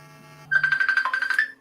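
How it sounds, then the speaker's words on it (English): A phone rings with a steady, repeating electronic ringtone that starts abruptly and pulses in a bright warbling pattern for about a second, fairly close and clear over a low engine-like hum from a car driving on a normal A road. "That's the phone. I'll answer that."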